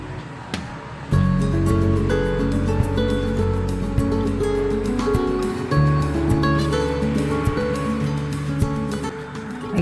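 Dry coconut being ground in an electric mixer grinder, starting after a brief pause into a loud, steady whirring motor with rattling and knocking of the jar throughout, no talk.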